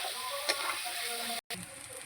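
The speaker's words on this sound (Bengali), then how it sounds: "আগে হচ্ছে ভেজে রাখা আলুগুলো দিয়ে দিচ্ছি এবার মশলার মধ্যে" Fried potatoes sizzling as they go into hot spice masala in a pan, a steady close crackling hiss with a brief clatter near the start and a short cut partway through.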